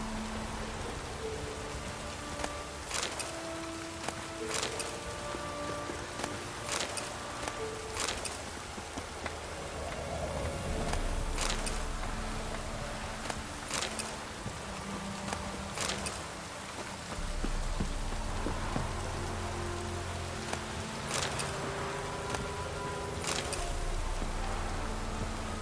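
Rain falls in The Witcher 3, a steady hiss laced with sharp, sporadic drop clicks, and low rumbling tones swell and fade beneath it.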